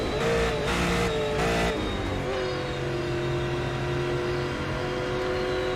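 Super late model race car in iRacing at Nashville Fairgrounds Speedway, engine droning steadily with a sustained high brake squeal running across the whole stretch, loud and close.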